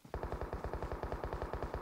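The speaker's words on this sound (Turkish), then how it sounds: "O silah sesi bizim işimizi biraz daha kolaylaştırdı." Rapid automatic video game gunfire in One Man Squad rattles in a steady burst of evenly spaced shots, loud and close, with no voices.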